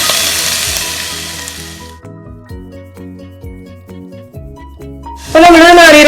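Coconut pieces, curry leaves and green chillies fry in a hot pan for an egg theeyal, a loud sizzle fading as the pan settles, then a fresh burst of intense sizzling as more goes in.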